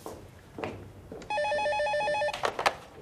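A telephone rings once with a bright electronic trill, loud and close for about a second, between quiet room sounds and a few soft movement noises.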